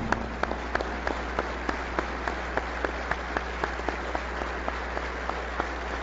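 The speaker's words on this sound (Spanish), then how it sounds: "un fuerte aplauso para nuestro amigo y compañero Francisco Blake Mora" Deputies in a chamber applaud in memory of Francisco Blake Mora, a steady sustained round of clapping with distinct sharp claps standing out, over a low constant hum.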